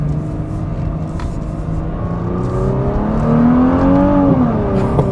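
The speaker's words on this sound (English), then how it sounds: "The exhaust made a little bit of sound." A 2021 Nissan GT-R Premium, with 565 horsepower and set in its R mode, accelerates with a steady exhaust drone that rises in pitch as the revs climb and grows louder, then dips slightly at the end.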